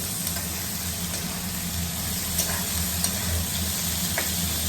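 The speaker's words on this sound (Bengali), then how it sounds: "এই চিচিঙ্গাটা একটু ভেজে নেব" Snake gourd frying in hot oil in a wok, a constant close crackling sizzle with light stirring clicks and no voices.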